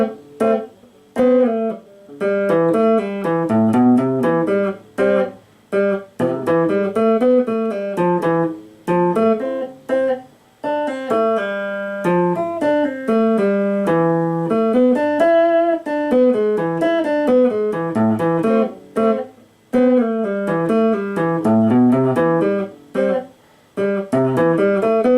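Big thick chords played on a keyboard without sustain, each chord cut short with gaps of silence between, in a continuous detached rhythm, loud and close.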